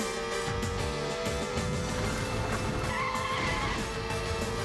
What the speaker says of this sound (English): as you can hear, the car sounds totally different now